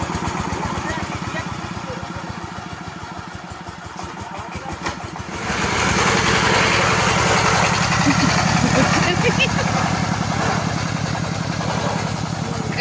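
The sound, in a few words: motorcycle engine running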